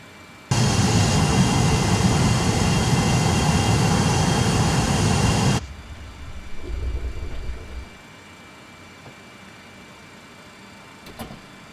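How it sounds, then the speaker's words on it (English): An MD-80 airliner taxis to the stand in Microsoft Flight Simulator. A loud, steady jet roar runs for about five seconds and then cuts off abruptly. A softer low rumble follows and fades into quiet. "Now let's taxi up to the stand."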